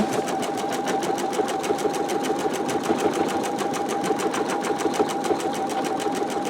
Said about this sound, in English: It's doing my free motion quilting for me.